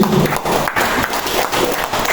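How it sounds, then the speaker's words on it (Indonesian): A crowd applauds with dense, continuous clapping that rises and dips slightly, loud and close, with no voices standing out. "Tepuk tangan buat ketua DPW NTB"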